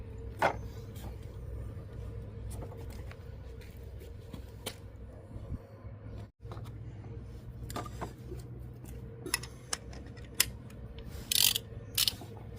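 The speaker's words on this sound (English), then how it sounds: "I'm going to get a socket to go on the end of there." A socket wrench ratchets quietly near a brake caliper on a 1989 Dodge Dakota, giving faint intermittent clicks and metallic taps over a low background hum.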